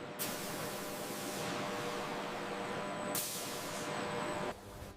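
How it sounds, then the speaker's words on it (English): Color machines spray dye across ostrich leather hides in a tannery, giving two long, loud hissing bursts that run almost back to back before cutting off abruptly, with no voices. "Color machines spray the hides with consistent coverage."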